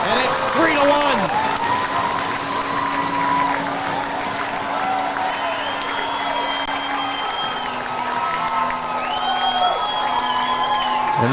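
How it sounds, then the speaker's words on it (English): An ACHA college hockey crowd at an Arkansas vs Missouri game claps and cheers steadily after a goal, with a commentator talking over the sustained applause. "Finally, this crowd comes alive."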